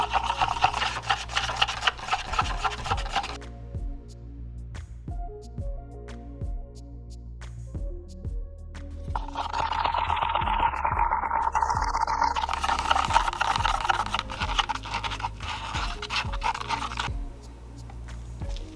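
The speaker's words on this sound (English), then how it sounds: "Now this video wouldn't be complete without an obligatory epoxy resin mixing montage." Epoxy resin being stirred and mixed in a container, heard as continuous close scraping and rubbing that thickens midway, with a brief tonal whine alongside the steady stirring.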